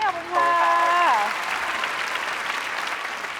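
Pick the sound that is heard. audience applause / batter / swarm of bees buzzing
audience applause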